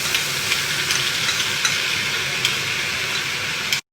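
A dense, steady sizzle fills the cooking pan as spices are stirred into a dish, with faint scraping taps across a continuous hiss, close and loud, before it cuts off abruptly.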